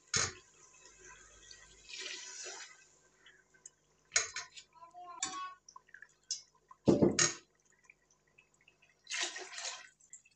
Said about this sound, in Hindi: अब हम इसमें यखनी ऐड करेंगे जो हमने बनाई हुई है।